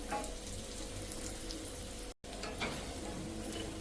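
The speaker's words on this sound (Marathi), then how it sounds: "इथे छान असे हे कटलेट दोन्ही बाजूने परतून झालेले आहेत" Vegetable cutlets frying in a pan for a home-cooked veg thali, giving a steady close sizzle and crackle that runs throughout, broken by one brief silent gap.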